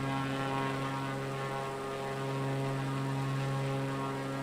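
An Extra 330LT aerobatic propeller plane in Microsoft Flight Simulator, its engine and airscrew droning steadily with a strong tonal hum and buzzy harmonics, loud and continuous throughout.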